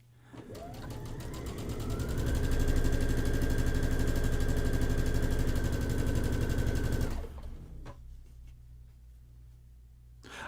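A sewing machine runs one long continuous quilt seam, rising in speed to a dense, steady mechanical hum for about seven seconds before stopping abruptly, leaving faint handling sounds.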